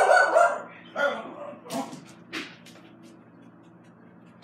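A dog in a home kitchen barks four times, one sharp loud bark and then three weaker ones, each fainter than the last and trailing into quiet.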